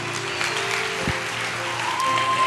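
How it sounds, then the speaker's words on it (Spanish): Church congregation applauding during a sermon, a dense, even wash of clapping from a large room, steady and moderately loud, with a faint sustained tone underneath. "Aplauda su gloria"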